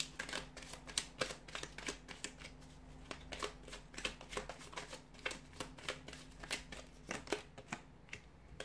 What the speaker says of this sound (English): So we'll give the cards a shuffle here.